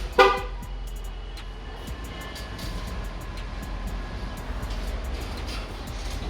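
A 2020 Volkswagen Passat B8.5 gives a short horn toot as it is locked, followed by a quiet background hum and faint ticking.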